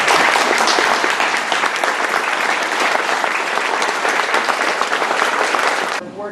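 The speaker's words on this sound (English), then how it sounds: "So I hope you'll join me in thanking her with a round of applause." A crowd in a room gives sustained, loud applause in dense, even clapping that carries for about six seconds before cutting off, after which a voice begins speaking.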